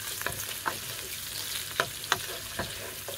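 Onion, garlic paste and chili fry in hot oil for an eggplant stew, a continuous close sizzle punctuated by sharp scraping taps of a spoon stirring the pan.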